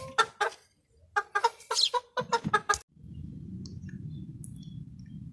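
Australorp hens cluck close by in a quick series of sharp, loud calls for about three seconds, then give way to a low steady background rumble.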